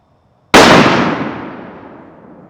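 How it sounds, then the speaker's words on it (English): A single sharp, loud rifle shot from a Thompson Center Compass chambered in .300 Win Mag, fired outdoors at targets, bursts in suddenly and rolls away in a long fading echo. "I'm just going to shoot at the center of those 4"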